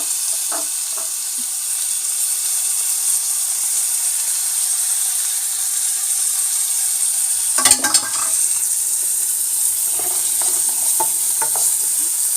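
Minced garlic stirred in a hot pan, producing a steady, faint sizzle and hiss with a short burst of louder scraping and clatter partway through, then a few light taps, no talking.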